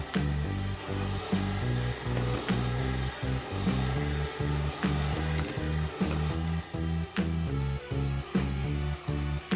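Electric mixer beating a milk cream filling made with whipped cream powder at high speed, a steady close motor whir with regular pulsing dips in rhythm throughout, no voices.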